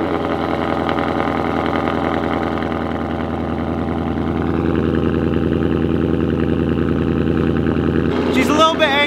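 Ford Mustang engine idling while warming up on a snowy driveway, a steady close rumble holding throughout with a slight change in pitch midway and a brief clatter at the end.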